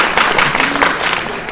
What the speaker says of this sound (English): Give a round of applause for Callan.